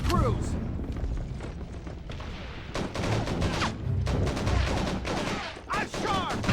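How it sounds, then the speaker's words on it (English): Mortar fire and explosions in the Call of Duty 3 PS2 campaign, Canadian troops clearing a town, as a dense fusillade of gunfire and booms rolls on, with soldiers shouting over the battle. "Mortars! Those mortars aren't very far away."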